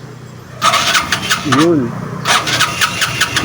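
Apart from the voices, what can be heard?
Honda CB 125 tricycle engine starting with electric starter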